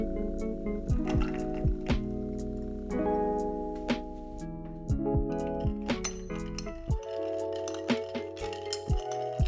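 A spoon stirs soju and Monster energy drink in a glass, ringing out repeated bright clinks against the glass in an uneven rhythm, close and clear with faint liquid swirl between strikes.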